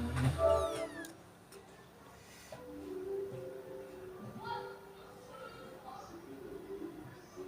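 A cat meows a few times, loudest near the start, with people talking over faint background noise.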